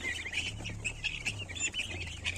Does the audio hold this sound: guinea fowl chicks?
yes